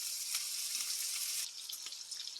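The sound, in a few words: sausage and bacon frying in a pan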